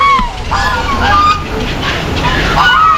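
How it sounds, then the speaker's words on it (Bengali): Geese and ducks honk and call at a bird park beside a pond with an artificial fountain, a steady overlapping chorus of near and far calls with the wash of falling water behind. "এখানে হাঁস রয়েছে, রাজহাঁস রয়েছে, আরও বিভিন্ন পাখি রয়েছে"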